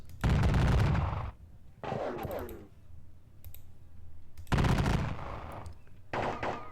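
Several bursts of crackling musket volleys ring out in a Napoleonic Battles wargame set in the Peninsular War, loud and dense, each rolling for about a second with quieter gaps between.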